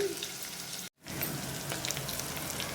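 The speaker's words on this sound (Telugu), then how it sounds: "ఇవి చక్కగా ఫ్రై చేసుకోవాలండి" Vegetables fry in oil in a pan for a Telugu ridge gourd tamarind stew, a steady close crackling sizzle broken by a brief silent gap, with faint stirring.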